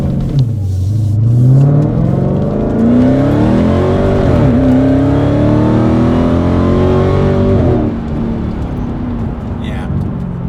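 A Dodge Challenger Hellcat fitted with an MBRP race exhaust revs hard, its deep, loud engine note climbing and falling through several throttle blips before settling to a rumbling idle near the end.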